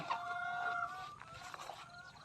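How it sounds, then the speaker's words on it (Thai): Native domestic chickens at a Thai farm clucking and crooning softly, a few overlapping rising calls close by over quiet outdoor background, with no talking. "นี่ เป็นไก่บ้าน"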